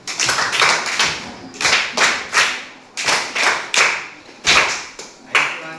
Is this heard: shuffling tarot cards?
no